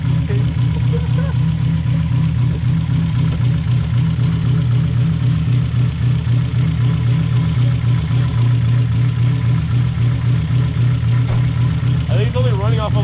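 A cammed Mazda Miata engine runs roughly on only about two cylinders while smoking, giving a loud, close, uneven idling rumble with knocking pulses that continues throughout. A brief rising whine comes near the end.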